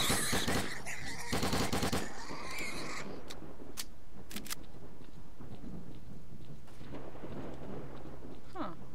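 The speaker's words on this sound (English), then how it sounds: "whom are they shooting now?" Gunfire crackles through a video game set in Pripyat, a rapid burst of shots up front, then scattered single cracks and short volleys at a distance over an ambient outdoor bed.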